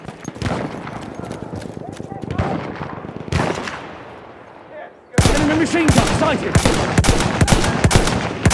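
Rapid machine gun fire rattles loudly in Battlefield 1, dense repeated bursts that break in abruptly after a quieter stretch of scattered shots, with voices talking over the battle.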